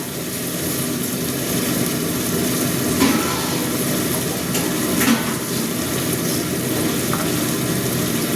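Ground spices, including chilli powder, Kashmiri chilli powder and turmeric, hit hot oil in a pan for mutton curry, giving a steady, close sizzle that runs unbroken throughout with no voices.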